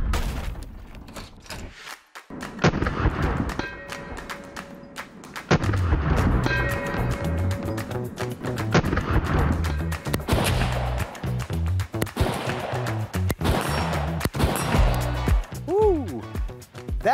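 An AR rifle fires several loud, sharp shots at an outdoor range, spread irregularly through the stretch, with people talking between the bursts.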